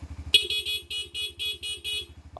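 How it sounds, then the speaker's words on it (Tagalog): A stock horn on a Suzuki GSX-S 150 FI motorcycle honks in a rapid series of short, evenly pulsed beeps over a low idling engine hum, close and fairly loud. "Stock na busina muna."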